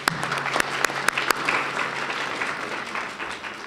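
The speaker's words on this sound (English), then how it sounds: "let's give them another round of applause" Audience applause for a student team at a campus-wide university gathering: a few sharp, close claps at first, then a steady wash of clapping from the room that gradually thins out.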